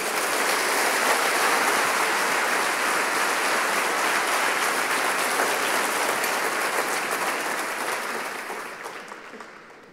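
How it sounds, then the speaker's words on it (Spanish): A church congregation applauds the Lord during a sermon, a thick, rain-like wash of clapping holding strong for several seconds before tapering off at the end. "Dale un aplauso fuerte al Señor."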